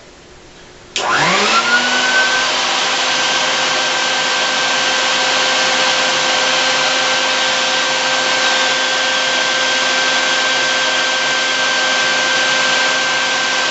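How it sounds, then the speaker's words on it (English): A vacuum cleaner switches on after a second of quiet and spins up to a steady, loud whine that holds for the rest of the clip. "Time to turn on the vacuum, and let's see what we got."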